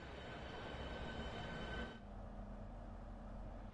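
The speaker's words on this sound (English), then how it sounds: "This particular train is a Class 395 Javelin built by Hitachi in Japan for European operation." Class 395 Javelin high-speed train built by Hitachi, in Train Sim World 2 on the Southeastern High Speed route, a steady rolling rumble and hum that dulls partway through, with no talk.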